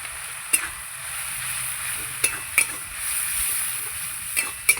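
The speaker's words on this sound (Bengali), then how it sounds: "দিয়ে ভালো করে মশলাটাকে এবার কষাবো আমি" Spice paste of salt, chilli powder and turmeric stir-fried in oil for a meat curry, a low steady sizzle with a few sharp spatula scrapes and clinks against the pan, close and without talk.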